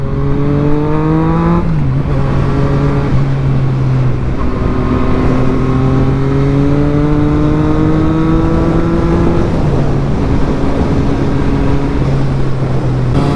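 A motorcycle engine in power mode accelerates through rising, droning revs, with the pitch climbing steadily and dipping at each gear change across several pulls, loud and close throughout with no talking.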